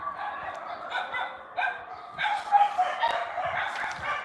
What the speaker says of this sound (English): Can't stop the dogs.